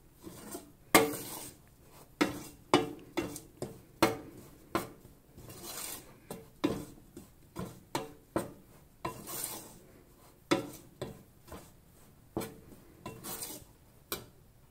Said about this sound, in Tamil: ஸோ ஈவனாக நம்ம கிண்டிகிட்டே இருக்கணும்